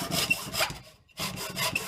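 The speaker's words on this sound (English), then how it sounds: "Let the saw do the work." Hand saw cutting through wood outdoors, with steady back-and-forth rasping strokes in two bursts separated by a brief pause, close and fairly loud.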